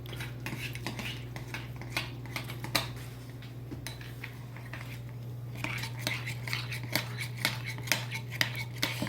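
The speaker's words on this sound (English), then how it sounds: "you're going to use your spoon, and you are going to stir that up" A metal spoon clinks and scrapes repeatedly against a bowl while stirring vanilla into yogurt for parfaits, the quick taps close and fairly soft over a steady low hum.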